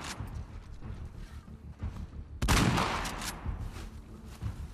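Gunfire in The Last of Us Part 2: faint, scattered shots with a rattle of mechanical clicks, and one louder, fuller blast partway through, all at a fairly low level.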